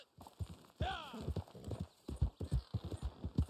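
A horse's hooves clip-clop in steady rhythm in the Red Dead Redemption video game, close and clear, with a brief whinny early on and a voice talking over the hoofbeats.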